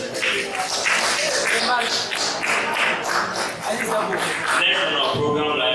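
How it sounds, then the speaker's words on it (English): Applause for the financial secretary at a student congress in Belgorod, Russia: dense, steady clapping from a crowd filling the hall throughout, with some voices and shuffling mixed in. "A round of applause for our financial secretary."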